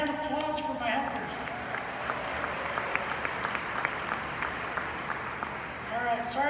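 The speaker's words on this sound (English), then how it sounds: "Big hand round of applause for my helpers." An audience claps steadily in a sustained round of applause, with voices talking over it at the start and end.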